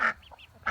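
Ducks on a Vermont farm give two loud, close honking quacks, one at the start and one at the end, with a few fainter calls between them.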